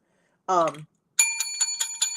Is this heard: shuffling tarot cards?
no